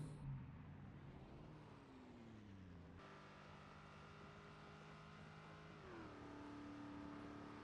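A sports car engine in the video game Project Zomboid drones steadily for several seconds and shifts pitch up and down as it revs. It is quiet and distant, with no talk.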